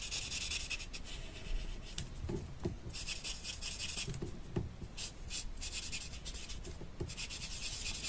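Alcohol marker in WG1 gray rubbing across the whole surface of a paper envelope, a soft continuous scratchy stroking that swells and fades in steady back-and-forth passes, close up and quiet.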